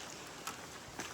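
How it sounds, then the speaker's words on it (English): Light morning rain on a trail in the Appalachian Mountains between Virginia, West Virginia and Maryland, a faint, steady patter with a couple of sharper drops; no voices. "it's raining this morning."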